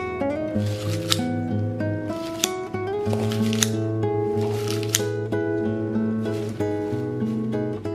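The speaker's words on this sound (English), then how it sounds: "I take my kitchen scissors and I just go in the bowl to chop up the salad" Repeated crisp snipping and crunchy cuts of kitchen scissors chopping salad greens in a bowl, about once a second, over steady background music with sustained tones.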